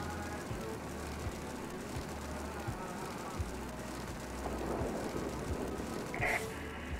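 A damaged aircraft engine in the World of Warplanes combat game drones with a buzzing, insect-like whine under a repeating low throb, along with faint background game sounds and a short bright blip near the end.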